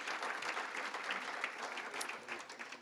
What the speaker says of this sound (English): If you could please offer up a round of applause for those annual sponsors.